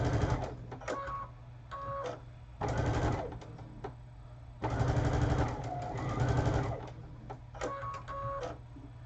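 A sewing machine runs straight seams in several bursts, a rapid mechanical whir that starts and stops with short pauses between runs, close and fairly loud with no voices.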